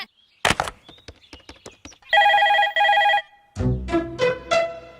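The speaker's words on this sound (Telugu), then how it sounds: "రింగ్ అవుతుందిరా" A telephone rings in a household comedy scene: two bursts of steady electronic ring tone, loud and close, between clicks and handling noises, followed by a voice beginning to speak.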